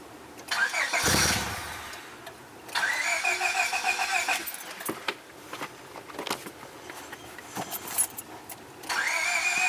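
A car engine starting for the first time after an installation: a cranking burst, then the motor catches and settles into idle, revving up and down in short surges with clicks and clanks between.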